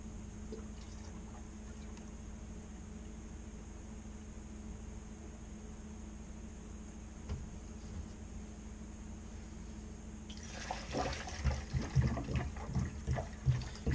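After a steady hum, distilled water starts pouring into a container, a splashy, gurgling flow that begins abruptly and continues with uneven glugs.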